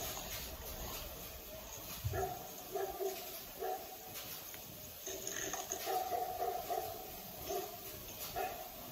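A dog barks and yips in short bursts from a funny clip, small and somewhat muffled, with the barks spaced in two clusters over a faint background.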